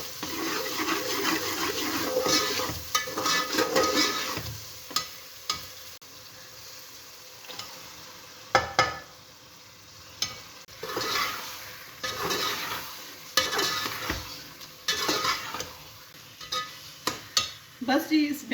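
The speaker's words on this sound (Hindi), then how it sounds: "इस बैंगन के भरते को भी मैं भून लूँगी अच्छी तरीके से।" Baingan bharta frying in a yogurt and spice masala that has already released its oil, with steady sizzling broken by repeated scraping stirs of a spoon against the pan, close and moderately loud.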